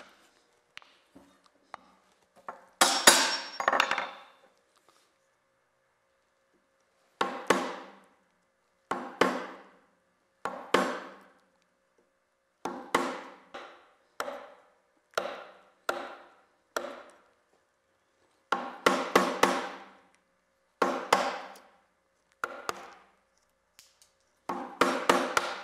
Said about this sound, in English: Put the chisel into the marking gauge line and just tap it.